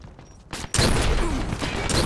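Sniper gunfire in the online shooter Dirty Bomb, a sudden loud crack after a quiet lead-in, followed by a sustained dense burst of shots and battle noise that stays loud to the end.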